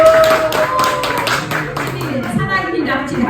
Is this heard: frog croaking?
no